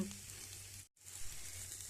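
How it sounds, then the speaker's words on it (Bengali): Food sizzles and crackles in hot oil in a kadai, a soft, steady frying hiss close by that cuts out for an instant and then resumes. "ভাজাটা হয়ে গেছে এবার তুলে নেব"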